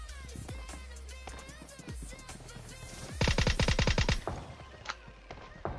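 VSS rifle fire in a video game: a tight burst of about a dozen rapid, punchy shots after scattered softer game sounds, followed by a couple of isolated shots.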